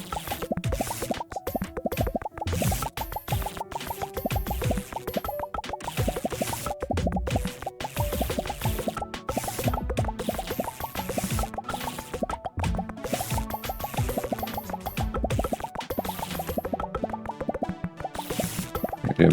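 A comet shower pelting a black hole in a video game, heard as a dense, nonstop patter of quick plopping and dripping impacts laid over a steady musical bed, staying busy and even for the whole stretch.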